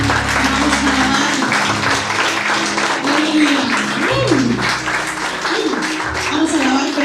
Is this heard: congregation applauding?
yes